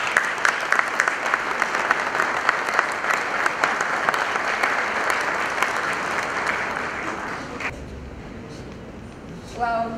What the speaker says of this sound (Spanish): Fuerte el aplauso para Sandra.